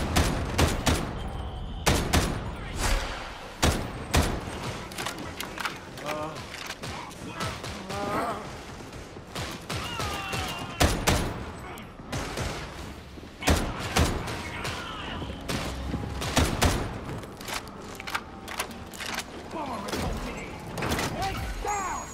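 Rapid shots and bursts of gunfire ring out in the video game Warhammer 40,000: Darktide, loud and irregular throughout, with sharp cracks repeating among mechanical clatter and a voice talking over the fight.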